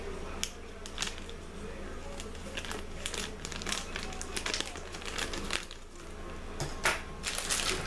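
Crinkling plastic packaging rustles and crackles in bursts as a bag of M&M's Pumpkin Spice Latte candy is worked open, close to the microphone, with some talking mixed in.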